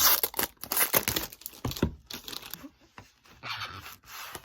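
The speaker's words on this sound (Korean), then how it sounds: "그냥 하나씩 뜯어볼게요" K-pop album packaging, including plastic wrap and cardboard, is torn open and handled close by in a quick run of crinkling, ripping and rustling, with small clicks and crunches and no talking.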